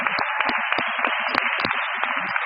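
A short burst of applause at a college graduation ceremony in Dublin, with dense, brisk clapping from a seated audience and sharper individual claps standing out, fairly close and continuous.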